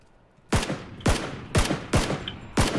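Five sharp, loud gunshots in the battle royale shooter PUBG, spaced about half a second apart, each cracking and then echoing away over a quiet background.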